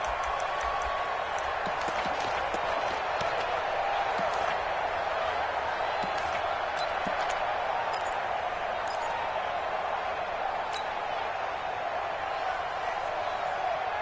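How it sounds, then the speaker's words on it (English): Football stadium crowd roaring in a steady, dense wash of cheering that holds for the full stretch, loud and far-spread with scattered shouts and whistles rising above it. "the crowd getting into it as we come up on a big third down"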